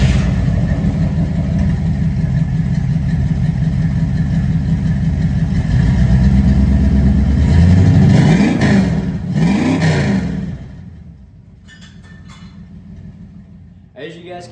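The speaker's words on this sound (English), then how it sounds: "now the truck has a lot more deeper tone, kind of throatier V8 sound" A 1986 Ford F-250's V8 with a new exhaust rumbles deep and throaty up close, revving higher and then dropping off to a quieter idle near the end.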